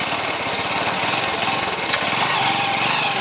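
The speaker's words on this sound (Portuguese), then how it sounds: "Barulhinho da moto, tudo de bom." A 1997 Honda CG motorcycle engine runs steadily close by, a continuous rough, rapid putter with a dense mechanical rattle that holds an even level throughout, with no speech over it.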